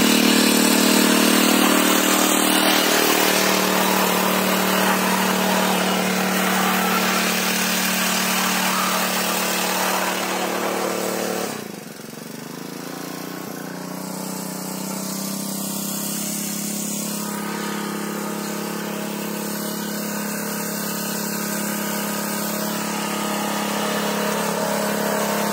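A single-wheel weeder's small engine runs steadily on a farm in Melur, Madurai, Tamil Nadu, droning loudly for about eleven seconds, dipping briefly, then carrying on at a slightly lower, even level to the end.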